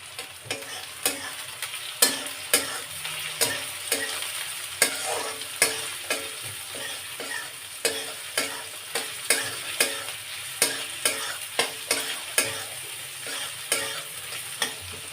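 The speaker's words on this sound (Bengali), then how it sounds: "এবারে পেঁয়াজটা ভাজা হবে" Onions fry in a pan with a steady sizzle under regular, rhythmic scraping stirs, close and continuous with no talk.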